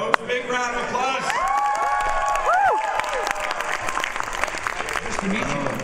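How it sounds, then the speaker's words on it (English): An audience applauds and cheers at a live New Year's Eve event with animated characters on stage, a loud sustained wash of clapping with whoops and shouts, and a voice talking over it. "Come on, folks, big round of applause."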